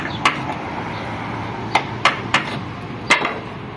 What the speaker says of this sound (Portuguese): Aí eu pego esse formão, ó.